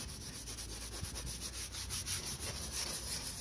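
A detailing brush scrubs an eleven-year-old leather car seat with a leather cleaner, giving a steady, close scratchy rubbing with rhythmic back-and-forth strokes and no talk.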